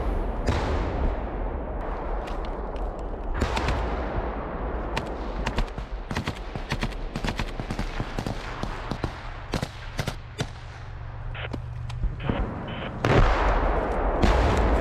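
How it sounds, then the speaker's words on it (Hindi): Combat gunfire during a firefight between Russian and Ukrainian soldiers near Kreminna: repeated sharp shots and rapid bursts crack over a rumbling background, some close and loud, others more distant, with no talking. "रूसी और यूक्रेनी सैनिकों के बीच गन फाइट के वीडियो है ये"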